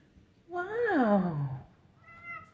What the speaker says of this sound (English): So many kitties.